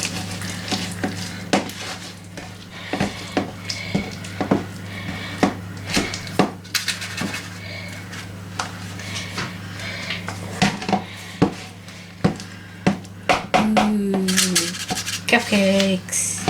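A spoon mixes cupcake batter in a bowl, making repeated close knocks and scrapes in an uneven rhythm, with a brief voice near the end.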